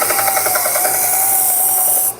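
A steady, loud whirring hum of a power sander with 150 grit sandpaper running continuously, ending abruptly.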